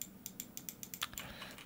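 Repeated computer mouse or key clicks while playing Timber and Stone, a quick, fairly even run of light, close taps with no voices.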